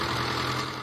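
A tractor engine idles steadily, a low rumbling hum holding even and loud throughout with no voices.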